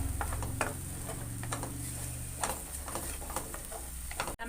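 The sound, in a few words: ground paste being sautéed and stirred in pan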